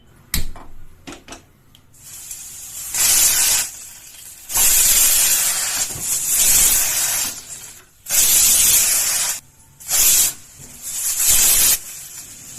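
Pressure cooker with chana dal on the stove releasing steam in loud hissing whistle bursts, several long blasts broken by short quieter gaps, with faint clicks between, close and alone with no talk.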